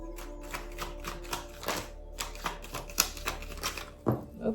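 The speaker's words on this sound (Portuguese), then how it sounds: "Baralho o tarô mitológico." Mythological tarot card deck being shuffled and handled, a run of crisp, separate clicks and snaps spaced unevenly over several seconds, close up with a low hum underneath and no speech.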